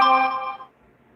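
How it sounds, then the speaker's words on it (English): Phone notification chime for an Instagram alert rings out clearly as a short bright tonal ding with harmonics, decaying within about half a second into quiet. "And Paula, I did just get your Instagram notification."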